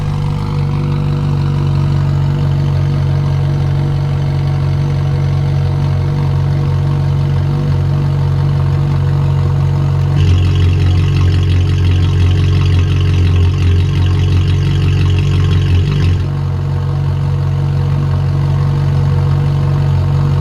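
Ferrari 458 with a valved S-Line exhaust idling steadily, close to the microphone, a low continuous rumble that shifts to a slightly fuller, raised tone partway through before settling back to idle.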